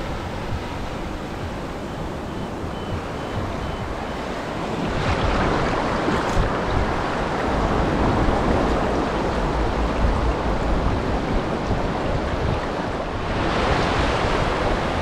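Ocean surf on Tyrico Beach along Trinidad's North Coast Road, a steady loud wash of breaking waves swelling and surging, with wind buffeting the microphone and no talk.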